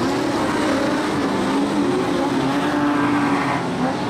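Modified sedan race cars roar around Kingaroy Speedway during a Golden Helmet Series heat, a dense, steady engine drone with no break, heard from trackside and without commentary.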